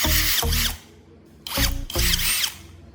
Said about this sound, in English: Attach the battery to the drill and pull the trigger.